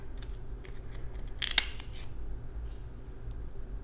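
A single sharp snip of scissors cutting through king crab shell, brief and close, over a quiet steady background hum.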